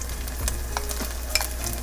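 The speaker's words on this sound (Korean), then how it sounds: "마늘이 이제 볶아지고 있어요. 지글지글." Chopped garlic sizzling and frying in a pan for tomato broccoli fried rice, a steady close hiss with light stirring scrapes and a few sharp spatula clicks, no talking.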